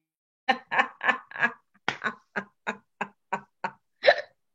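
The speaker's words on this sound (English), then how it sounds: "I had hiccups." A person hiccups about a dozen times in a row, loud and close, each a sharp voiced gulp in an uneven rhythm, with no talking over them.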